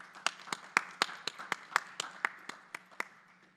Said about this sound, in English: giving one final round of applause